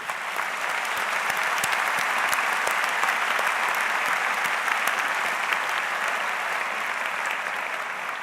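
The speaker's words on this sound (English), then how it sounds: "We all applaud you." An audience at a university graduate ceremony applauds the graduates with a sustained, even wash of clapping that holds steady and full from start to finish.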